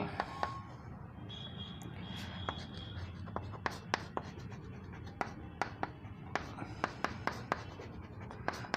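Chalk or marker scratching on a board as a maths step is written in a class, with a run of short sharp taps and strokes close by against quiet room tone.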